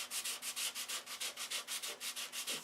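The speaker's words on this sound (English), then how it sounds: "I really enjoy sanding." Steady back-and-forth hand sanding on a model airplane, a close, rhythmic rasping with about five strokes per second, even and continuous with no talk.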